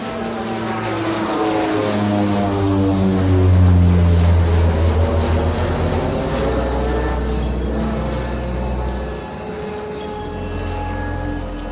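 Propeller airplane passing overhead, a loud droning engine whose pitch sweeps down steadily as it nears and moves away over about twelve seconds, with no talk.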